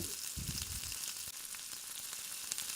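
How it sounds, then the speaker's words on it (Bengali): Chopped onions fry in oil in a wok, making a soft, even sizzling hiss with a few faint stirring bumps near the start, low in level and uninterrupted. "একটি কড়াই দিয়ে তাতে এক কাপ পেঁয়াজ কুচি আর পরিমাণ মতো তেল দিয়ে পেঁয়াজগুলোকে আমি ভালো করে ভেজে নেব"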